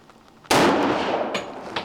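A single loud, close crack from a Colt 1911 Gold Cup National Match pistol, followed by a long ringing decay and a couple of faint later pops.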